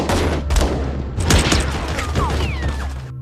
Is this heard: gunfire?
yes